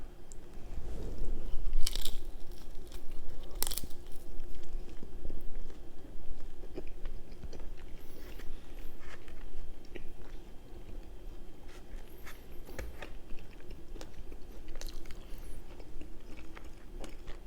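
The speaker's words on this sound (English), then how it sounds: "I think it's straight up the tortilla that makes it so hard to chew" Someone chews a tough tortilla from a Chipotle quesadilla, giving repeated close, crunchy bites and steady mastication with a few sharper crunches, no talking.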